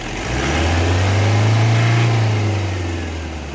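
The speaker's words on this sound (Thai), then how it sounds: "ลองเหยียบสุดๆค้างไว้ดิฮะ" A car engine revs with the accelerator held down after cleaning of the air flow meter, making a loud, sustained mid-pitched roar that swells, holds steady and eases off slightly, heard close up with no talking.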